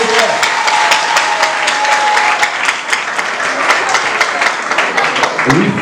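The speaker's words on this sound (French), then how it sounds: "Applaudissez s'il vous plaît" A crowd claps and applauds steadily and loudly for several seconds at a school quiz competition final, dense and continuous throughout, with a few voices mixed in.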